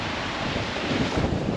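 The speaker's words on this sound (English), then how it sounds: "obviously it's way too windy" Strong wind buffets the microphone over waves breaking on a salty lake beach in Saskatchewan, a loud continuous roar with surges of surf rising toward the end.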